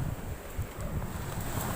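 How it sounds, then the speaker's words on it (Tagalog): Sea at high tide on a windy shore, a faint, low rushing surge of waves mixed with buffeting wind noise on the microphone. "Yan, guys, ang dagat."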